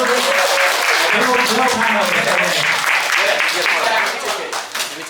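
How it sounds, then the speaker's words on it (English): An audience at a breaking (bboy) anniversary event applauds loudly, a dense sustained wash of clapping close by that tapers slightly at the end, with a voice speaking over it. "Give them another clap."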